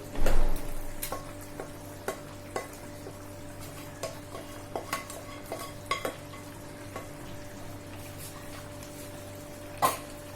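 Masala being stirred into chicken frying in a pan for Patiala chicken, a steady close sizzle broken by repeated scraping knocks of the spoon, with a louder hiss at the start and no talking.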